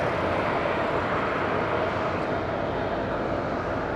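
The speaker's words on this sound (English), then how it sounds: "And BA lining up for takeoff." A British Airways airliner at Madeira Airport lines up for takeoff, its jet engines giving a steady, loud, continuous roar with no voices.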